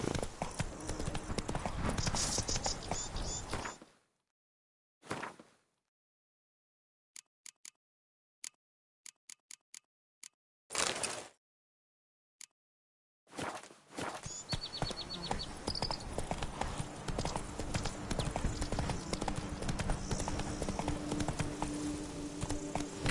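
Horse hooves clip-clopping in a video game as a horse is ridden, a steady close rhythm of hoofbeats broken by a near-silent gap of a few scattered steps, then the gait resumes.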